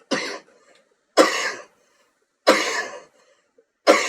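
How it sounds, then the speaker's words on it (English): Four separate coughs from one person, loud and close, each a short harsh burst spaced about a second apart, with silence between them. "Coughing. Sorry."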